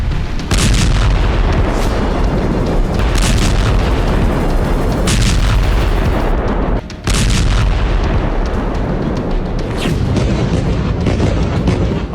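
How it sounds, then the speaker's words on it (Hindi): Repeated heavy booms and blasts in Gaza, several broadband detonations arriving one after another at irregular intervals over a loud continuous rumble, with no speech. "गाजा में रह रहकर धमाके हो रहे।"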